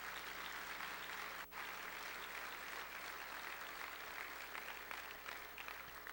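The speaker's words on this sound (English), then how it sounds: "And how about a round of applause for all 4?" Audience applause for three business forecast panelists and their moderator, a steady, even patter of many clapping hands filling a hall, heard fairly faint and without talk.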